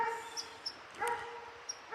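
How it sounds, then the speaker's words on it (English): A dog barks at a camper on an off-grid property in Maine, giving a few short, spaced yips and barks at moderate distance over a steady background hum. "he's still barking at my camper"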